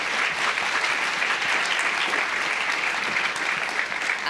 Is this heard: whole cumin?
no